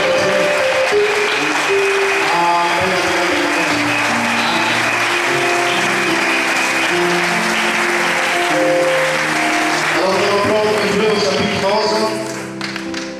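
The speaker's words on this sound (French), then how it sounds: "Est-ce qu'on peut acclamer pour le Seigneur?" A church congregation applauds and cheers in sustained, dense clapping that stays loud for over twelve seconds, with voices and sustained musical tones running underneath before it tapers off.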